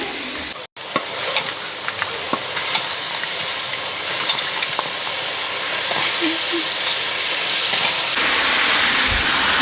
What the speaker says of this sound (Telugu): ఇప్పుడు చికెన్ వేసుకుందాం మనం ఇందాక కడిగి పెట్టుకున్న చికెన్ అనమాట టూ కేజీస్ చికెన్